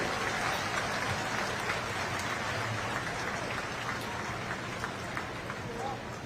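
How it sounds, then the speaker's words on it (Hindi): Crowd applause for soldiers at an outdoor Independence Day ceremony in the rain, a dense, distant wash of clapping blended with rain noise that continues evenly throughout, with voices mixed in. "मैं चाहूंगी हमारे इन वीर जवानों के लिए एक बार जोरदार तालियों से अभिनंदन करें।"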